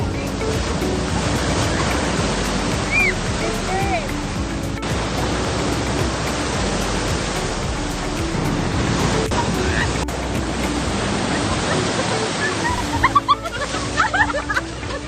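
Heavy surf roars continuously at Liwliwa beach, Zambales, waves crashing and washing without pause, loud and close, with faint voices mixed in near the end.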